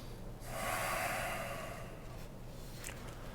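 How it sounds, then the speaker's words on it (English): A long, breathy exhale during a yoga thigh exercise with a block, swelling in after a brief pause and trailing off into a soft hiss, close and fairly quiet with no talking. "exhale off of the block"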